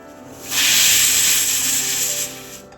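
A pressure cooker cooking rice on an induction stove lets out a loud, close, steady hiss of steam from its whistle weight for about two seconds, then it fades.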